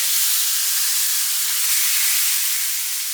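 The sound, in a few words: ground beef cooking in a pan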